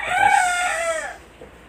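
A single rooster crows nearby, a loud drawn-out cock-a-doodle-doo that fades off, with no talking.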